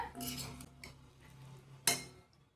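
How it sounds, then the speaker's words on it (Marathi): A metal spoon clinks and scrapes against a pan while crushed peanut powder goes into a fasting vegetable dish; quiet close clatter with one sharper knock near the end. "आता टाकून घेते मी 1 चमचा दाण्याचं कूट."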